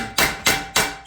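Hammer striking a piece of metal against an anvil while repairing a rusty 1972 BMW 2002, four sharp, evenly spaced ringing blows in quick succession, close and loud with no talking.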